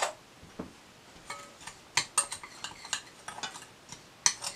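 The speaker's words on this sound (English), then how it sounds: "you're just going to want to mix that all up" Snickerdoodle cookie ingredients being stirred in a mixing bowl, with soft scraping and a run of light clicking and tapping knocks from the utensil against the bowl, irregular and close, no voices.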